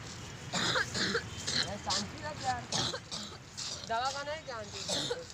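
A man fakes a few harsh coughs and throat-clearing sounds as a coronavirus prank in a public place, mixed in with ongoing Hindi conversation between men nearby.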